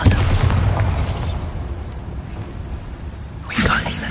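Bombarda explosion spell in Hogwarts Legacy, a booming blast at the start that fades into a low rumble, followed by a second burst near the end.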